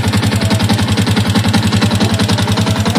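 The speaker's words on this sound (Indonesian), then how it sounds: "ada suara klotok-klotok sama gemericik sebelah sini" A Yamaha MX King motorcycle engine idles loudly up close with a steady, rapid pulsing rhythm and a rough clattering knock throughout, suggesting a worn cam chain tensioner.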